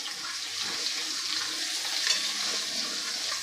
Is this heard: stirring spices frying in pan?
yes